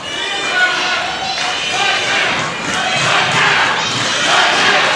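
Wrestling fans roar and shout together in a continuous, loud crowd din that swells and holds steady throughout, with voices mixed into the noise.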